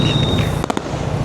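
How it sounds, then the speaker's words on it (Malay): Firecrackers set off outdoors on the night before Hari Raya, a quick cluster of two or three sharp cracks over a steady background hum and a faint high whine. "ada yang makan mercun."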